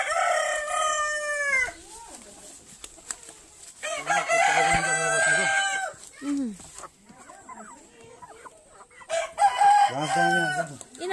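Chickens and a rooster in a backyard coop with young chicks, loud crowing and clucking at the start and again near the end, with people talking in the middle.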